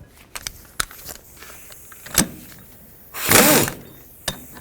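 Hub assembly bolts are snugged up on the rear bearing and hub of a 2001-2007 Toyota Highlander: scattered sharp ratchet clicks, a few isolated knocks, and one brief louder whirring burst midway, all close and in a quiet setting.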